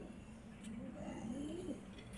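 Pet pigeons at home give a soft, low coo rising and falling once, faint and close, against quiet room noise.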